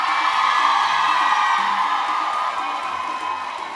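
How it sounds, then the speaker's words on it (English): At a 2012 GIAMA awards comedy show, a large audience cheers and whoops, a loud, continuous wash of crowd noise that eases slightly toward the end. "a round of applause for the coolest dude"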